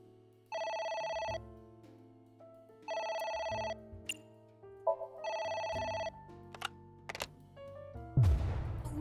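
A phone ringing in the video game AI: The Somnium Files, three evenly spaced buzzing electronic ring bursts over game music and sound effects, ending in a sudden sharp noise hit.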